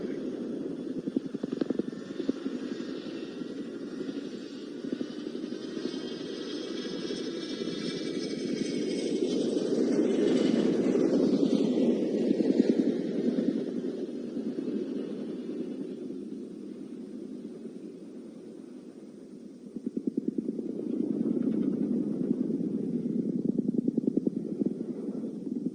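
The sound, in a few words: helicopter performing the seesaw manoeuvre at an airshow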